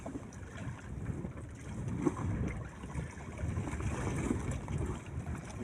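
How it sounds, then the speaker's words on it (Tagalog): Large ocean waves slosh and churn around a small boat at sea, a continuous low rushing wash mixed with wind buffeting the microphone, fairly quiet and steady with no voices. "malaki na naman alon ito oh"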